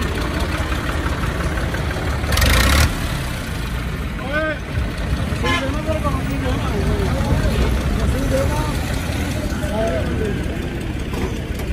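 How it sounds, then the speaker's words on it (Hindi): Fiat 640 tractor engine running at a delivery, a steady low rumble under nearby speech and voices, with a brief loud burst of noise. "ये ट्रैक्टर दुनियापुर जा रहा है, और ये दूसरी तरफ बैंक ऑफ पंजाब वालों का ट्रैक्टर भी डिलीवर हो रहा है।"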